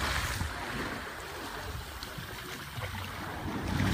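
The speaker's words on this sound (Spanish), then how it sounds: "Una playa cerrada," Waves wash against a secluded beach under cloudy skies, a constant loud rush of surf mixed with wind buffeting the microphone, with no talking.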